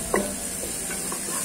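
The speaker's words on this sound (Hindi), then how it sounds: "चम्मच आपने जरूर हिलाते जाना साथ साथ ताकि नीचे लग ना जाए।" A spoon stirs chicken makhni gravy in a handi, giving one short scraping, bubbling stir close up against a steady low background, with no talking.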